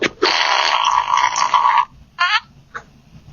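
A doorbell camera gives off a loud, buzzy, fart-like electronic blare lasting over a second, then two shorter warbling bursts after brief gaps.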